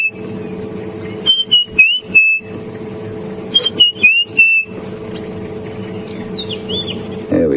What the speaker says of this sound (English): That's the white-browed scrub robin.